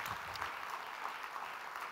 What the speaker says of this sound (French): est-ce qu'on peut applaudir encore bien fort tous ceux d'espoir pour le travail?